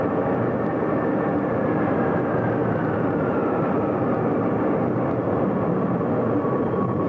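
A Boeing B-52 bomber gives a loud, steady, broad jet roar that holds unbroken and close throughout, with no voices over it.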